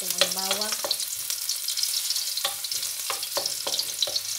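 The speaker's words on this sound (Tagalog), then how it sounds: "Tayo ng mantika. Ito, lagay natin ang bawang." Garlic fries in hot cooking oil, giving a steady crackling sizzle, with a few brief stirring scrapes and clinks standing out against the background hiss.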